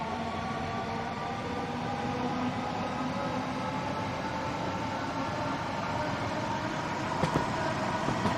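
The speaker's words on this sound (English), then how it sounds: "we are going to put a bit of power into the train and get this train up to 45 miles per" A London Overground electric train in Train Sim World 2 pulls away under power, a steady, dense rail and motor roar with rumbling wheels that builds slightly, with no talk.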